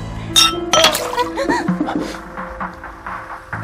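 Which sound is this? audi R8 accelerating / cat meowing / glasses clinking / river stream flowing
glasses clinking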